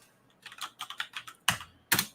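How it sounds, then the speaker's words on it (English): Typing on a computer keyboard: a run of quick, close, light key clicks in an uneven rhythm, followed by two louder, sharper keystrokes near the end. "I was going to type it in to see if I could pull it up, and I immediately started typing Lineage"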